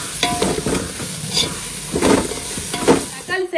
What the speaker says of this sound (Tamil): இஞ்சி பூண்டு பேஸ்ட் சேர்த்து நல்லா வதக்கிடுறேன்